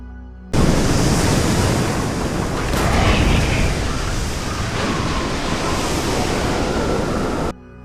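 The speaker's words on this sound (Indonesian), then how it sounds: "Tiba-tiba terjadi tsunami yang menghancurkan sebagian besar rumah warga Kristen di pinggir pantai." Tsunami waves crashing on a seaside village in the film Malik, a sudden roaring wall of rushing water and surf that starts abruptly, stays loud and dense for several seconds, then cuts off.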